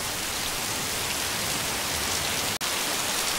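Heavy rain pours down steadily in a dense, loud hiss of drops on surfaces, continuous and close, with one brief dropout near the end and no talking.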